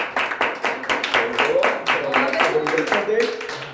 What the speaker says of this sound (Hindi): के जलाल के लिए जोरदार तालियां बजाते हैं।